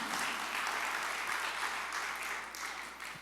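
Congregation applauding during a church service, a dense, steady wash of many hands clapping together that fades slightly toward the end.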